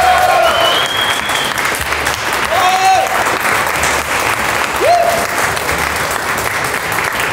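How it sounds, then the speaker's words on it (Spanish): Studio audience applause greeting Moisés Muñoz on a comedy talk show, a sustained, loud wash of clapping that holds steady throughout with brief whoops and cheers rising above it. "¡Un aplauso para él!"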